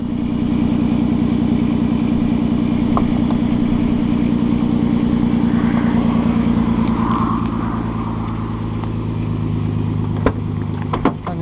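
A Volkswagen Golf Mk5 R32 engine idles steadily with a deep, even exhaust burble close by, holding constant throughout with a couple of brief clicks near the end.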